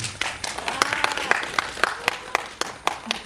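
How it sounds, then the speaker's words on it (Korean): Audience applause welcoming three actors on stage at a film event in Busan, with scattered sharp individual claps over a steady patter, moderately near and a little sparse. "박수로 환영해 주세요"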